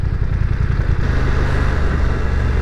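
A BMW F900R motorcycle with a 900 cc engine revs loudly and close, a dense rough mechanical drone that settles into a steadier idle-like throb partway through, with no talk.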